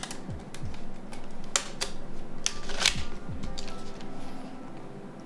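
A Nokia Bluetooth folding keyboard is folded shut, giving a run of close, clicky plastic snaps and key rattles with a brief sharp clack near the middle, heard alone.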